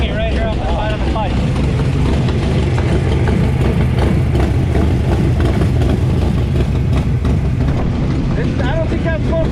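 A Pro Touring Camaro's engine and exhaust, louder and rawer after a melted O2 sensor fell out of the pipe, drone loudly and continuously at close range, with voices talking over it.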